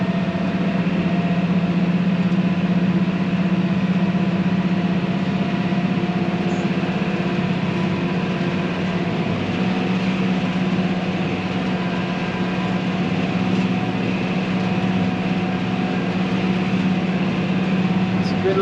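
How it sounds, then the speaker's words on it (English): A steam traction engine pulls a heavy cultivation load up steep hills, giving off a steady, continuous engine drone and hum that stays even and fairly loud, with no pauses. "She pulls well, this tractor."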